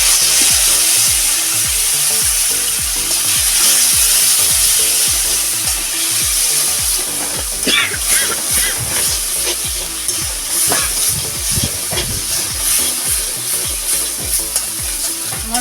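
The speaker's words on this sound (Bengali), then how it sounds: "মশলাটা এখানে ভাজা হয়ে গেছে বেশি নাড়ার দরকার নেই" A ground spice paste of cashew, poppy seed, melon seed and cardamom fries in a pan with turmeric, giving a loud, continuous sizzle with rhythmic scraping and stirring strokes close by.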